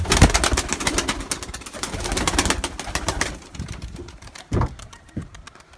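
Taklacı tumbler pigeons in a coop, cooing and fluttering close by alongside rapid rattling clicks and a couple of louder thumps, with no voices.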